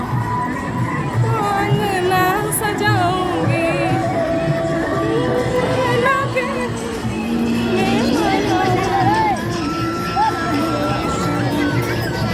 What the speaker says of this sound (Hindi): केते भीड़